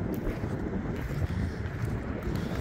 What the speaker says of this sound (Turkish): Acayip bir rüzgar esiyor.